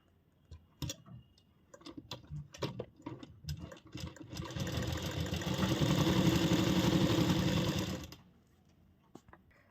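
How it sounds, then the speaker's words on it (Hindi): A sewing machine stitches fabric along the neckline of an angrakha-pattern umbrella frock, first in short stop-start bursts with ticking clicks, then a sustained whirring run before stopping. "अभी हम इस पर सिलाई लगाएंगे पहले नेक की तरफ।"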